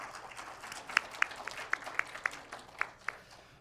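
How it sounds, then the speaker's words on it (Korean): Faint, sparse clapping from an audience at an anniversary ceremony for a women journalists' association, a few distinct claps against a quiet room. "여러분 박수 부탁드립니다."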